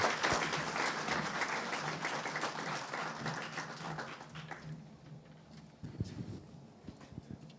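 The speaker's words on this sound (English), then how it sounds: "Let's make sure we give them a big round of applause for coming and talking to us today" A meeting audience gives a round of applause for the speakers, Ron Winterton or Annette McRae, at the Uinta Basin Collaborative. Dense clapping runs for about five seconds, then thins and dies away to a few scattered sounds.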